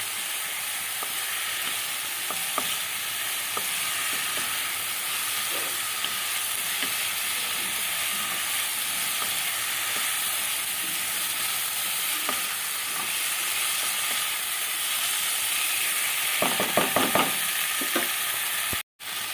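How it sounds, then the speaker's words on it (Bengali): Ginger-garlic paste frying on a high gas flame in a pan for a Bengali tangra fish curry, a long steady sizzle up close with sparse spatula scrapes and a quick cluster of clatters near the end. "ভালো করে একটু এইভাবে কষিয়ে নিতে হবে আর গ্যাসের ফ্লেমটা হাই করে কষাতে হবে"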